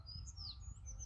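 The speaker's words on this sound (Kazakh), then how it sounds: "Анау жақта торғайлар шырылдап тұр." Sparrows chirp outdoors in a yard, a few thin high tweets and squawks over a low background rumble, faint and somewhat distant.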